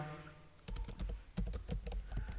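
C++ code is typed on a computer keyboard in a rapid, uneven run of close key clicks and thumps, with a faint tone at the start and no talk.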